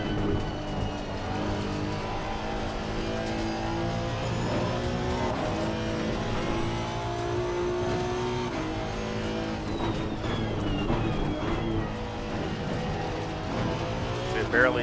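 Honda NSX Evo GT3 race car in Assetto Corsa Competizione at Oulton Park, its engine droning steadily with shifting revs and gear changes throughout, loud and continuous beneath someone talking over it.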